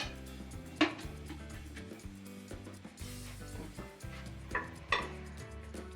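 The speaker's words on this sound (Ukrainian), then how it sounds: "Перемішуємо." Spoon stirring lecho with added sugar in a pot, producing faint scraping and a few sharp clinks against the metal, soft and close over a quiet kitchen background.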